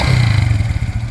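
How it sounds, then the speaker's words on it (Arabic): A used motorcycle engine runs close and loud in a brief burst, a steady low rumble with a slight clattering pulse. "ديماريو الموتور بحال هكا"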